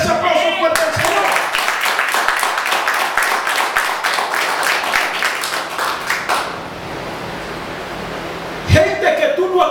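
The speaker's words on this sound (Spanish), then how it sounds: "Dale ese aplauso fuerte al Señor" A church congregation breaks into loud, rhythmic clapping in a steady beat for several seconds, which then fades into a broad hiss before a voice comes back in near the end.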